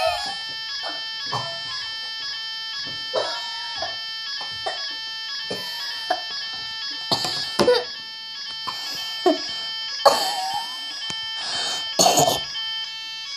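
A fire alarm rings in a series of bright, steady electronic tones, with short sharp bursts breaking in across the whole stretch and louder clusters near the end.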